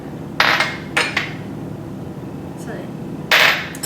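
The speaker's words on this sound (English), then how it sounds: "So just mix them with a spoon until it's fully incorporated" A metal spoon knocks against a bowl while sugar, spices and salt are stirred together, giving three sharp clinks spaced about a second apart plus one fainter tap, over low background noise.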